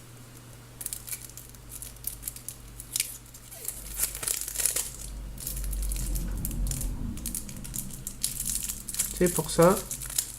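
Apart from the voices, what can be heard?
opening a Yu-Gi-Oh card deck packaging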